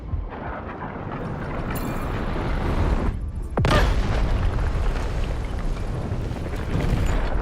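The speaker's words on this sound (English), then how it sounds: "Guided missiles launched." Guided missiles launch and strike in the Delta Force video game, giving heavy booming blasts and a sharp crack of impact over a constant roar of battle noise, with no voices.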